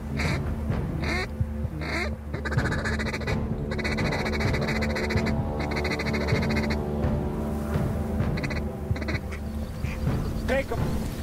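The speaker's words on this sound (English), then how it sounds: "we got a group of ducks coming straight at us here" A flock of ducks in a Manitoba marsh quacks loudly and continuously during a waterfowl hunt, rapid overlapping calls near and far, with some goose-like honks and people talking over them.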